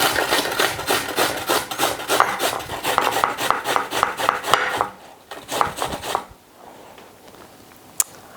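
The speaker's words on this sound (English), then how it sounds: "let's grate some beetroot." A large beetroot being grated by hand, with fast regular rasping strokes close and loud for several seconds, then slowing into a few scrapes before stopping, one sharp knock at the end.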